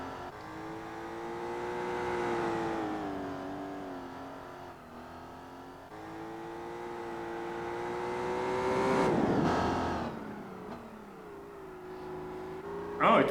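A 2003 Aston Martin DB9 with a 5.9-litre V12 in Gran Turismo 4 revving and pulling through gears, the engine tone climbing and dropping in smooth sweeps with a brief gearshift dip, steady and moderately loud throughout.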